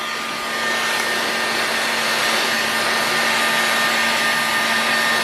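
A heat gun blows a steady, loud stream of hot air over an OS 61VF model engine during disassembly, a constant whooshing roar with a faint whine, uninterrupted for the full stretch with no talking.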